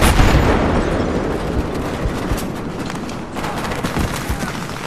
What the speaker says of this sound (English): Vehicle down, taking fire from the left!